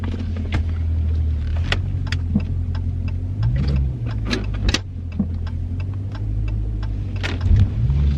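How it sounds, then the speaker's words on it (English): Dodge Challenger Scat Pack sliding through a drift, a steady loud engine drone with low rumble and brief sharp tire chirps and squeals scattered throughout, rising in intensity near the end. "try to give you some clips of me sliding the car before I get back."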